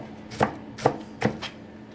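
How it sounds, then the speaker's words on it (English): A knife chops onions on a cutting board for Japanese korokke, three crisp, evenly spaced chops close by, with no talk. "We start by chopping the onions."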